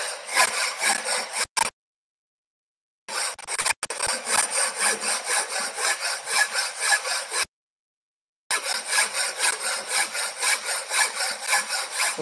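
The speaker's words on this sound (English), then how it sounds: "And I have to remove the metal from whole area, so I will adapt cross filing." A hand file cross-files across a metal workpiece in steady rhythmic rasping strokes, loud and close, in three long runs broken by short silent pauses.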